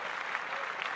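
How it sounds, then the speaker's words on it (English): Applause from a podcast audience, a steady dense patter of clapping throughout at moderate level, with no voices over it. "Clap that up."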